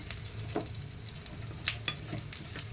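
Prawns frying in a pan for a Telugu-style prawn fry, a steady close sizzle with scattered pops and crackles and a few sharper clinks, no talk.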